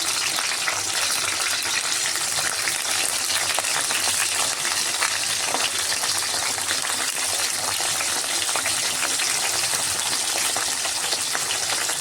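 Stuffed ridge gourds fry in a pan with a steady, dense sizzle and crackle. The sound runs unbroken for about twelve seconds at close range, with no talking.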